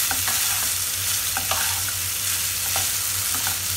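Boiled rice being stirred and mixed in a sizzling pan for dhaba-style veg pulao, a steady frying hiss with soft repeated scraping strokes of the spoon, close and continuous, no talking.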